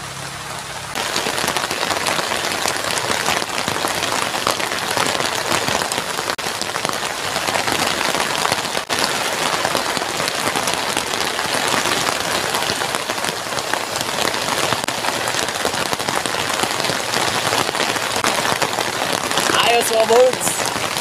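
A heavy downpour drums steadily over an outdoor cooking spot near a river mouth under big dead trees, a loud unbroken roar of rain lasting throughout, with a voice speaking faintly beneath it.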